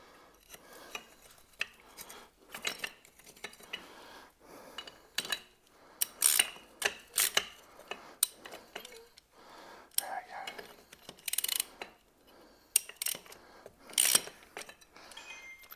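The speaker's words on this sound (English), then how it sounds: "I'm just going to wind this in so I can get me socket back off" A socket ratchet winds on a seized suspension bolt of a Jaguar XKR, giving close, irregular bursts of sharp metallic clicks and clacks separated by short pauses, with faint breathy sounds between them.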